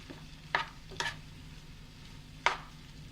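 Banana flower and prawn stir-fry tossed in a pan, a soft steady scraping stir under faint sizzling, with three sharper clatters of the spoon against the pan.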